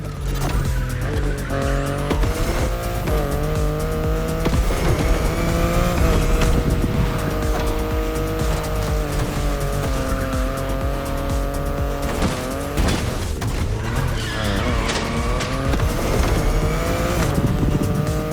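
A BMW i8 driven in The Crew Motorfest, with a steady engine note rising and falling through gear changes and squealing tires in skids, loud and continuous, with no talking.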